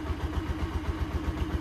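A Honda TMX 125 motorcycle fires up from its push-start button and settles into a steady, rhythmic low idle, close and fairly quiet, with no talking.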